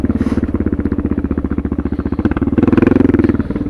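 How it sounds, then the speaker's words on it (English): A tuned Suzuki DR650 single-cylinder motorcycle engine runs steadily while riding, a loud, close, rhythmic thumping exhaust that swells in the final second, with faint popping from the pipe. "Still a little diesel popping, but I haven't took out that pair valve yet."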